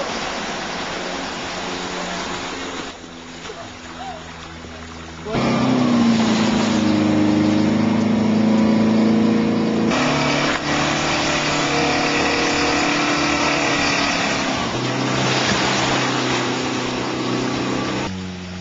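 A Pinzgauer off-road vehicle drives through water, its engine a steady loud drone with rushing, splashing water noise that rises sharply partway through and stays heavy to the end.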